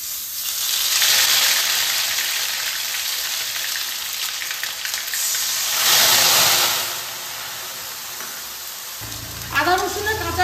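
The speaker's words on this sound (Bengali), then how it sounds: "আদা রসুনের কাঁচা গন্ধটা না যাওয়া পর্যন্ত আমি এই মশলাটাকে কষাতে থাকবো" Whole spices and ginger garlic paste fry in hot oil while being stirred, a loud steady sizzle that swells twice, then eases toward the end, where a voice briefly speaks.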